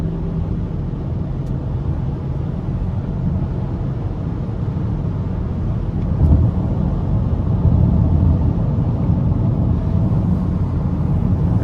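A 2023 Land Rover Defender 130 SE with a turbocharged 3.0-litre inline-six, heard from inside the cabin while driving: a steady, muffled low drone with road rumble, swelling slightly partway through and continuing without speech.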